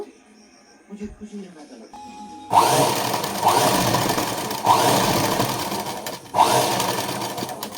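A sewing machine stitching a Bombay-cut blouse starts after a few quiet handling clicks, then runs in loud steady bursts, each restarting with a sharp jolt, while a person talks over it.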